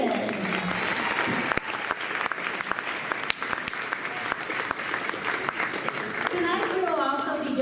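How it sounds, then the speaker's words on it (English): Basketball crowd in a high school gym giving a round of applause for David Tuttle, dense sustained clapping with sharp individual claps close by, with some voices mixed in. "Could we give a round of applause for David?"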